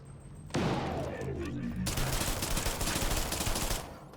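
A loud, steady stream of rapid gunfire aimed at security bots in the System Shock Remake, starting abruptly and continuing for several seconds without pause.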